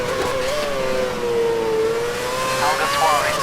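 A Formula 1 car engine from F1 2011 at Catalunya holds a high, steady whine with gentle pitch swells and brief shifts near the end. A race-radio voice talks over it.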